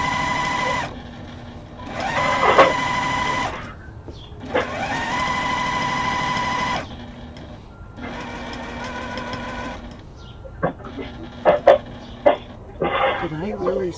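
A sewing machine runs in long steady bursts while stitching placemats for an outdoor table, stopping and starting several times, with brief clatters and a voice talking in the pauses near the end.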